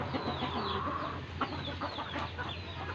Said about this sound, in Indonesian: ayam tampak berjalan mencari makanan dan berkumpul